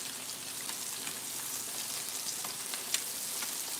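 Lemon juice sizzles steadily in a hot pan as it reduces for a fish and risotto dish, a continuous bright frying hiss with faint stirring scrapes and one sharp tick, close and without talk.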